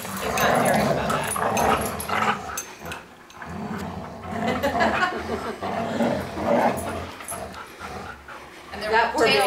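Three dogs play tug-of-war, with busy growling, snarling and panting that rise and fall throughout and stay close and loud, interrupted by short pauses.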